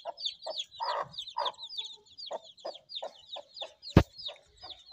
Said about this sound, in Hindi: एक मुर्गा है और एक मुर्गी है, इसके साथ बच्चे भी हैं।